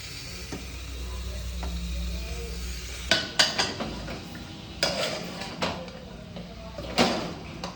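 Chicken pieces dropped into oil-glossed roasted masala in a pan, followed by sizzling and several sharp clanks of a spoon against the pot as it is stirred, after a few seconds of quiet low hum.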